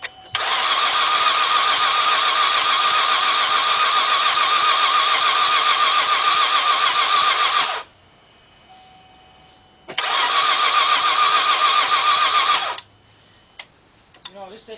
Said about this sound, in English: you don't want to burn your starter out, so you want to rest for like 10, 15 seconds and then do it again